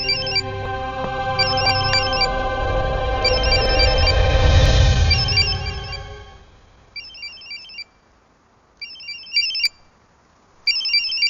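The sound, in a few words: phone ringing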